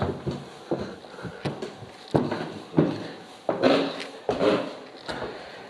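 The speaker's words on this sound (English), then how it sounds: "Everything's just so creaky." Old wooden floors and stairs in a castle at night give a run of heavy creaks and thumping steps, each one distinct and close, with short pauses between them.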